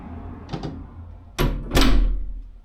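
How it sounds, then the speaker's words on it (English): A very heavy front door opens into the entryway of a rental apartment in Ponta Delgada, São Miguel, Azores: faint clicks of the latch, then two loud, close, booming thuds and a resonant swing. "I love the choice of door. Very heavy door."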